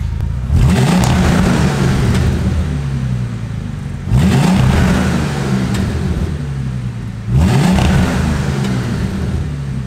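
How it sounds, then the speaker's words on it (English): A Bentley Continental GT with a newly fitted exhaust revs three times, each rise giving a deep, loud, close roar before settling back to a heavy idle rumble, with no voices. "Right, it's warmer, let's give it a bit of a rev."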